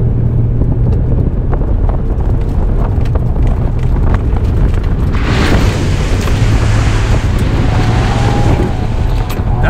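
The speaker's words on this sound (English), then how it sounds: "I'm just gonna run through these puddles, and these are pretty fucking big puddles." A Toyota 4Runner fitted with a snorkel, in four-wheel high, ploughs through big water-filled puddles, giving a loud, continuous rush of engine and splashing water that swells into a heavier surge midway through.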